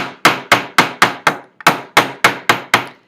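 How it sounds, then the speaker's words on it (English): Silver jewelry is hammered on a metal block, ten sharp, ringing metallic strikes in a steady rhythm with a brief pause midway, close and loud with no talking. "notice I'm hammering on the metal block"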